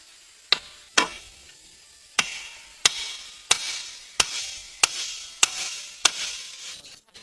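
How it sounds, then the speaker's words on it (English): A chisel chopping holes into wooden pillars for a jungle hut, driven in sharp, loud strikes, about nine evenly spaced blows with short pauses between them and no voices. "he chiseled holes in the pillars, and then secured them with thick wooden pegs"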